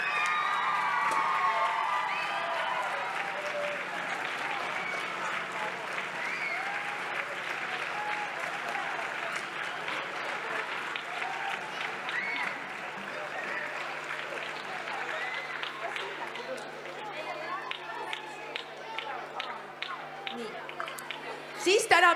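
Long, loud round of crowd applause at a spring festival choir concert, dense continuous clapping with scattered cheers and whoops, fading slightly and breaking into a few sharper claps at the end.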